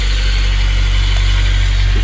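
A freshly installed engine in an 8th-generation Honda Civic idles with a loud, steady, close low rumble that does not change and carries no voices.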